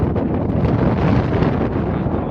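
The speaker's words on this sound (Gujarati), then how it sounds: "અત્યારે પવનની ફૂકે એમ છે ને દરિયાનો મોજા પણ ઉછળી રહ્યા છે ધીમા ધીમા" Steady, loud wind buffets the microphone in a continuous roar, with the wash of sea waves blended into the rushing noise.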